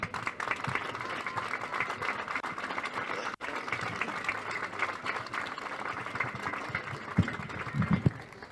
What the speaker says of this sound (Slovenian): Lahko zaploskate še enkrat.